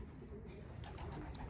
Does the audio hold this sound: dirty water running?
no